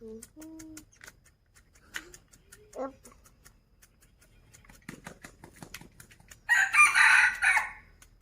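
A rooster crows once, loud and fairly close, after a stretch of quiet rural background with scattered small knocks and faint voice-like sounds.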